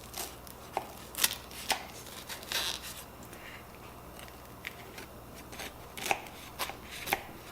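A knife cuts into a still-warm cherry pie, giving a series of soft, crisp crunches and scrapes of the crust, some sharper than others, spaced irregularly and fairly close over a quiet background.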